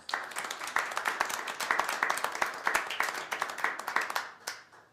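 A small crowd at a town council meeting claps with clearly separate handclaps, moderately loud and close, holding steady for about four seconds before it thins out and stops.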